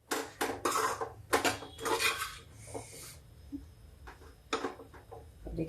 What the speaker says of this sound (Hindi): इसको ऐसे भूनते रहेंगे थोड़ी देर के लिए